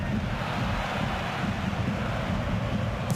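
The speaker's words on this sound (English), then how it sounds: "Yes, it's very windy in this stadium." Strong wind buffeting the microphone in a football stadium during a cup match, a continuous loud rumbling roar with no breaks.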